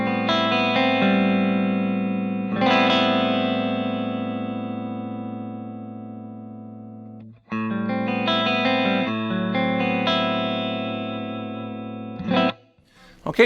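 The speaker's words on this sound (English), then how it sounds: "This is actually the Suhr Bella open back 112 cabinet with a Celestion V-type" Clean electric guitar through a Suhr PT15 I.R. amp head into a Suhr Bella open-back 1x12 cabinet impulse response with a Celestion V-type speaker: ringing chords and picked melodic phrases, close and full, with brief pauses between passages.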